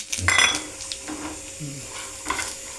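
Coconut pieces fry in a pan with curry leaves while a utensil stirs them, giving a few clanks and scrapes over a faint sizzle.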